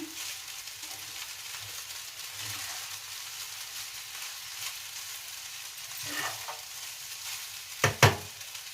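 Vegetable fried rice with chicken masala powder and mushroom fries in a pan, giving a constant soft sizzle with occasional light stirring, then two sharp scrapes of a spoon near the end.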